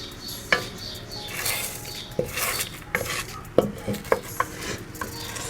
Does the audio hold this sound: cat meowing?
no